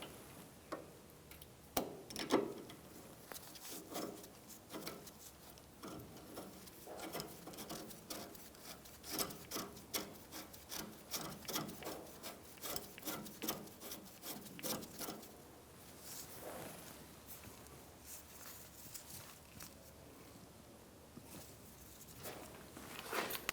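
A new inner tie rod is spun by hand onto the steering rack of a 2004–2009 Mazda 3, making faint, rapid ticking and light metallic clicks in uneven runs throughout, quiet and close, with no talking.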